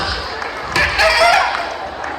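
A voice imitates a rooster crowing in a slurred, stretched-out way, the call wavering and breaking up for about a second over background noise.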